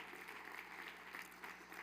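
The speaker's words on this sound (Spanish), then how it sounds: "Le damos un aplauso a Jesús por todos ustedes." A church congregation applauds during a Sunday Resurrection service, with continuous clapping heard faintly and at a distance.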